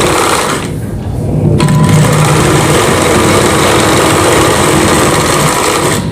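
A sewing machine runs loud and close, stitching fabric for a Rajputi kanchali blouse in a steady, rapid mechanical whir after a brief pause near the start, then keeps running continuously with no voices.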